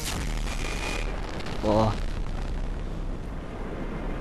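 Explosions from the video game Battlefield Bad Company 2 make a dense, continuous rumble with a louder swell in the middle, while a man briefly exclaims over it.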